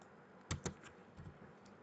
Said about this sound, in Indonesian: tekan L aja di keyboard bisa